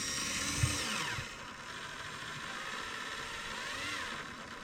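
Tyco Magnum 440X2 Corvette slot car with its small electric motor whirring steadily and close, a thin high whine with shifting pitch and a brief low bump near the start, no talking.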